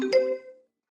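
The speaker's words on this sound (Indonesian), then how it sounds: "Teleponmu berdering." A mobile phone gives a single short electronic chime, a bright tone that fades out within about half a second, alone and fairly close.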